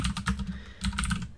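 A terminal command is typed on a computer keyboard, a quick run of soft key clicks in two short bursts with a brief pause between them. The typing is close and fairly quiet.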